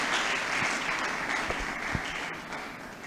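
Audience applauding a guest at an international university lecture in Nigeria, continuous dense clapping from a roomful of people, heard from a distance and fairly faint, with no talking over it.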